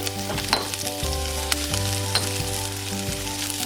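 Chilies sauté in hot vegetable oil in a pan, giving a loud, steady close sizzle with a few stirring scrapes and no talking.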